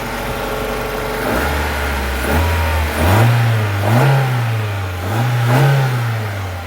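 The engine of an abandoned Mazda 323 Familia, started for the first time in five years, runs close by, rising and falling through several short revs above a steady low hum.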